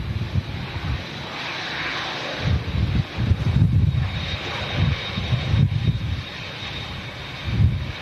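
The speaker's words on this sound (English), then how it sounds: "Saudi Dreamliner, up close and personal." A Saudi Boeing 787 Dreamliner passes close by on a stormy day, its engines a broad, steady roar, with low gusty rumbles swelling and fading every second or two.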